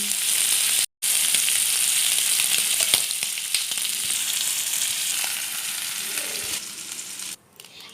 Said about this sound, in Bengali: একইভাবে আমি বাকি মাছগুলোকেও ভেজে নেবো